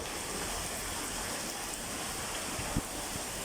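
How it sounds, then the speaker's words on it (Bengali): Heavy rain pours down steadily in a continuous broadband hiss, dense and unbroken, with a few louder drips or splashes near the end and no voices. "প্রচুর একটা বৃষ্টি হচ্ছে"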